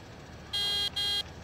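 A Rostselmash Acros 585 combine in Farming Simulator 17 sounds its horn twice in quick succession, a bright electronic buzzing honk with a brief gap, over a faint engine rumble.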